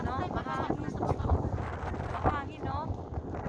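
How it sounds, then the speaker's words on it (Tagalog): Gusty wind buffets the microphone in low rumbling bursts while a person talks over it, beside a lake at Dawmat al-Jandal, Jouf, Saudi Arabia. "Mahangin, no?"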